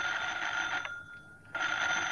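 An old telephone bell rings loudly in bright repeated bursts, pauses for about a second, then rings again, alone with no talk.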